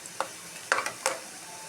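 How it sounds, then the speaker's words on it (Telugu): Carrots frying in a pan with chili powder are stirred over a steady sizzle, with three quick scraping strokes of the spoon close by. "కారం వేసుకొని బాగా మిక్స్ చేయాలి."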